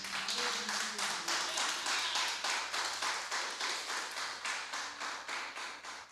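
A church congregation claps together in a steady rhythmic beat, loud and close, with a few voices murmuring underneath throughout.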